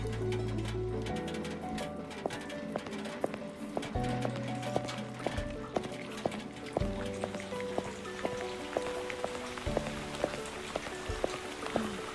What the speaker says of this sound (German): Ein Pferdchen.